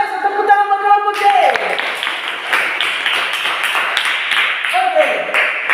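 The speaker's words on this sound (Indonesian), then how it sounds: "tepuk tangan buat kelompok C" A lower-grade elementary classroom applauds a group of pupils: a bright ping, then a dense burst of many small hands clapping for several seconds before fading.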